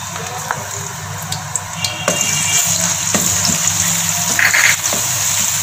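Spice paste fries in hot ghee, making a close, steady sizzle with occasional clinks from stirring that grows louder partway through.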